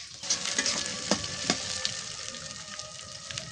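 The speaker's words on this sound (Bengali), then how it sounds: "পেঁয়াজগুলা আমার ভালোভাবে ভাজা হয়ে গেছে" Chopped onions, green chillies and garlic sizzle in hot oil in a pan, a steady close frying hiss with a few sharp stirring clicks near the start.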